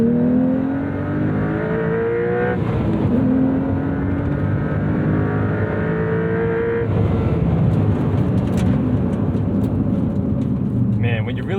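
A 2026 Porsche 911 Carrera T (992.2) engine revs hard through a full-throttle acceleration pull, rising in pitch, with a gear change midway and the climb starting again, loud and close from inside the car.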